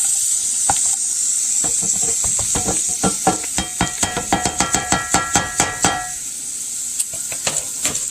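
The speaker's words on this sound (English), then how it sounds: "Okay, the pan is getting nice and hot for the onions." Chopped onions tipped into a hot pan on a home keto meal-prep stovetop, giving a steady sizzling hiss with a flurry of sharp clinks and scrapes as they are stirred and settled, close and fairly loud, with no talking.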